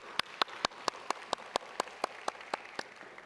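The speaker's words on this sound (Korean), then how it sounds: "저희가 축복의 박수 드리겠습니다." A congregation at a Korean church's Sunday service claps in blessing for a first-time visitor, with about a dozen sharp, evenly spaced claps ringing out at a steady rhythm in a quiet hall.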